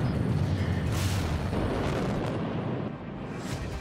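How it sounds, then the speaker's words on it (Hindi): A heavy, rumbling missile explosion at a bridge roars with dense low-end booming and crackling debris, sustained loud throughout with no voices. "जब मिसाइल पुल से टकराती है तो कमांड सेंटर में धमाका"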